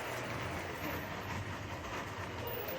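Yosemite Mountain Sugar Pine Railroad train running, a steady low rumble with faint rail noise throughout, heard from on board or nearby with a little background chatter.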